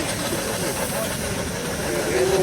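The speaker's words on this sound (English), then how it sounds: "It's a Foster traction engine, built by Learning in 2007" Miniature Foster traction engine built in 2007 at a steam rally, hissing steam in a steady, broad, close wash with faint mechanical tones underneath.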